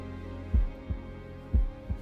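Heartbeat sound effect from a dramatic scene in Daredevil: Born Again: two pairs of deep, thumping lub-dub beats, loud and close over a low steady hum, with no talking.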